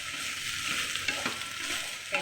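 Banana fry seasoned with salt is stirred in a pan, giving a brief run of soft sizzling and a few scraping clacks from the spoon against the pan.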